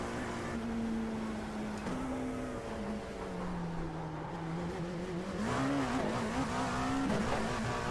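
Engine of a Dallara P217 LMP2 prototype race car in the iRacing simulator, a continuous high-revving whine that rises and falls through gear changes and corners.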